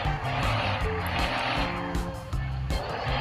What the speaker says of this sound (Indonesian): langsung saja kita hidupkan dulu untuk mesinnya kali ya guys ya. Oke, untuk suara mesinnya seperti ini.